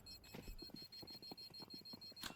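Counter-Strike 2 bomb emits rapid, evenly spaced electronic beeps, a steady high-pitched pulsing that runs throughout at low level alongside faint game noise.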